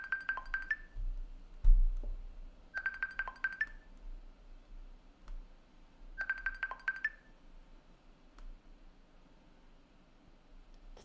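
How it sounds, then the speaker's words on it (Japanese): A phone ringtone rings for an incoming call, three short bright electronic warbling bursts spaced about three seconds apart, fairly faint and distant against low background rumble and small clinks, with no talk. "あ、電話来た。"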